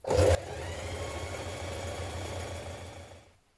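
Stitching a coat sleeve seam, a sewing machine runs in one continuous close whir after a brief louder clunk at the start, then slows and stops.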